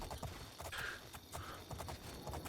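Horse hooves clip-clopping in the video game Oblivion while the player rides, a steady rhythmic patter of footfalls with faint game ambience behind.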